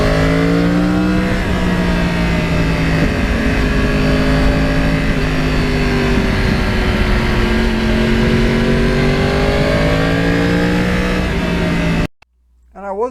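A Yamaha R1 crossplane motorcycle accelerates hard through the gears on a ride through a lake area, its engine note climbing and dropping with each shift, loud and steady up close before cutting off abruptly near the end.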